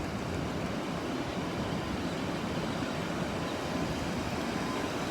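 Ocean waves break over a sandbar where surfers wait offshore, a steady, unbroken wash of surf with rushing hiss and low rumble that holds at an even level throughout, with no voices.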